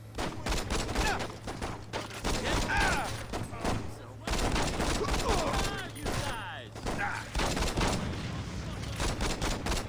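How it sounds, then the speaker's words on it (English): Dense gunfire and rocket launcher blasts ring out in the video game Saints Row, with rapid overlapping shots and bursts filling the whole stretch, loud and close, while a voice talks over the shooting. "That was a rocket launcher."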